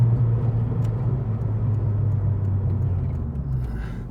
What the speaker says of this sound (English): I've never heard a Civic with overrun mapped in.